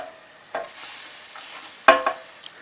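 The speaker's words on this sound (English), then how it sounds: "And then now we'll let it fry for another 2-3 minutes." Vegan potato pancakes frying in a pan give a soft continuous sizzle, broken by a few louder scraping and stirring knocks near the start and again toward the end.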